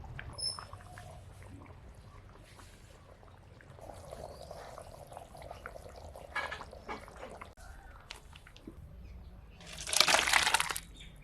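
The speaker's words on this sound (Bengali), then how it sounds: "রান্না হয়ে গেছে এবার গামলার মধ্যে ঢেলে দিব" Cooked mutton curry with papaya poured into a large bowl: a soft, wet pour with splashes, rising to a louder gush near the end over faint background noise.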